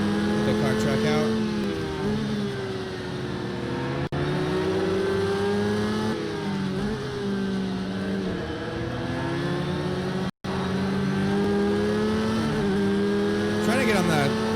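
A Porsche RSR GTE race car in a racing simulator game, engine roaring continuously and loud, rising and falling in pitch through gear changes and throttle lifts, with one brief cut in the sound.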